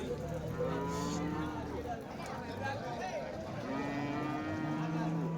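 Cattle lowing at the Vaniyambadi cattle market in Tirupattur, with several drawn-out moos and a busy crowd of voices talking around them.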